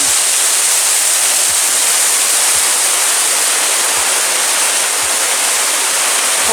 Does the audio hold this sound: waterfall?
yes